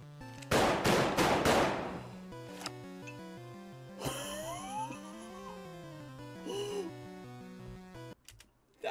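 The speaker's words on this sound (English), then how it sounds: "Those aren't normal bullets." A burst of cartoon gunfire sounds in an animated Pokemon bullet seed parody: a rapid volley of four or five sharp shots, then a single shot, followed by whistling, swooping effects over a bouncy backing tune.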